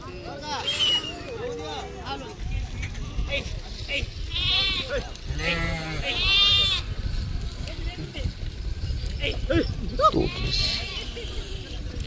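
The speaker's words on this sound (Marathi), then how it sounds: "मोठमोठ्या मेंढ्या घेऊन चाललेत." A flock of sheep being led along bleats repeatedly, several overlapping wavering calls from near and farther animals, under ongoing talk and crowd murmur.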